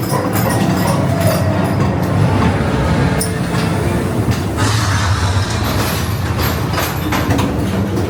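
A ghost train ride at Blackpool Pleasure Beach on Halloween rumbles along its track, a loud, continuous rolling clatter of wheels with intermittent rattles and bangs throughout.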